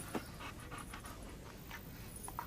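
A dog pants quietly in rapid, steady breaths against a hissy background, with no talking.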